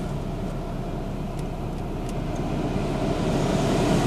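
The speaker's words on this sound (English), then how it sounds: "I'm going to turn the aircon on because it's very hot here." Air conditioning runs inside a 2000 Mercedes-Benz C240 with 76,000 km, giving a steady, even rushing hum with a low rumble beneath it that holds at the same level throughout, with no talking.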